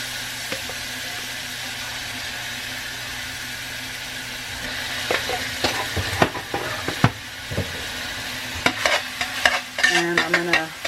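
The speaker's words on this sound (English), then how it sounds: "mix this up and let the garlic cook down" Garlic frying in a pan, a steady soft sizzle with a spoon scraping and stirring through it in irregular clinks and knocks that grow busier toward the end.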